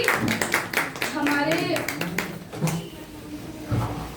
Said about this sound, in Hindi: ताली से स्वागत